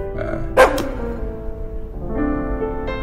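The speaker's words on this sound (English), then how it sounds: "Cute ass dog." A dog gives a sharp bark followed by whining, yelping vocal sounds, moderately close over a low background hum.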